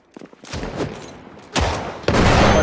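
Bursts of gunfire from the video game Project Zomboid, a loud rapid volley of shots followed by heavier sustained firing, with no talk over it.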